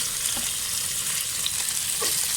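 Small boneless chicken pieces fry in a pan with a dense, even sizzle and a couple of soft stirring clicks, close and alone with no speech.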